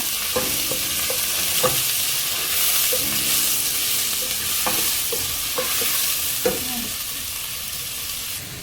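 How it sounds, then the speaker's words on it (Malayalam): Ginger, garlic, green chili and finely chopped medium onion sauté in a pan with a bright, continuous close sizzle, broken by several sharp utensil scrapes and clacks as the mixture is stirred. "ഇഞ്ചി, വെളുത്തുള്ളി, പച്ചമുളക്, സവോള, ഒരു മീഡിയം സവോള പൊടിയായിട്ട് അരിഞ്ഞത് ഇത്രയിട്ട് നന്നായിട്ട് വഴറ്റിയിടുക."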